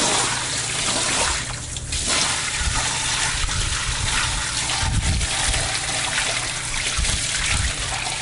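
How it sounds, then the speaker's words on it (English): Water is poured out of a bucket of rinsed sand, a continuous splashing gush with heavier surges every few seconds, close and loud. "All we're going to do is pour the water out."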